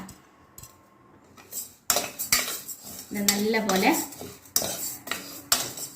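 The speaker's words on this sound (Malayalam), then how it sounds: "ഒന്ന് റോസ്റ്റ് ചെയ്തെടുക്കുക കുറച്ചൊന്ന് ഒരു ബ്രൗൺ കളർ ആവുന്ന വരെ വറുത്തെടുക്കണം കേട്ടോ" Split green gram dry-roasts in a pan without oil, a utensil scraping and clinking against the metal in repeated strokes, close and clear, with a brief spoken remark.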